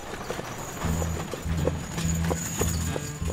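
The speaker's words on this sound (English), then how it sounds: "You can take a horse and carriage ride through town" A horse pulling a carriage through a historic gold-rush town, hooves clip-clopping in a steady walking rhythm on the road, close and clear against light outdoor background noise.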